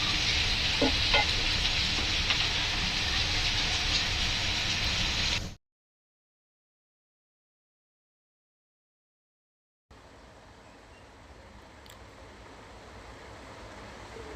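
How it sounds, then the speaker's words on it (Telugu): Egg-dipped bread slices frying in oil in a pan, a dense steady sizzle that cuts out abruptly for a few seconds and then returns softer and quieter, with no talk. "ఇలాగా అందులో బాగా డీప్ చేసుకొని కాల్చుకోవాలి"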